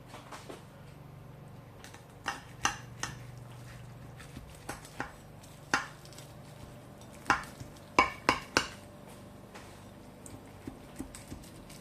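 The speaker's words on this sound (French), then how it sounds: "Je vais essayer de le découper puis le mettre dans l'assiette." A utensil cuts hot lasagna bolognese in a baking dish and serves it onto a plate, making a scattered series of close, light clinks and scrapes against the dish across the span, with no talking.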